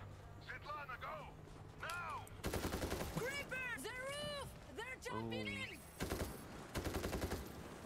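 Rapid bursts of automatic gunfire from a zombie shooter video game come in short volleys, with players talking excitedly over and between the shots.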